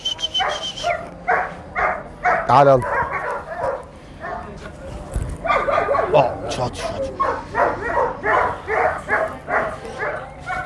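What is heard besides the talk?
eight-month-old dog barking on a farm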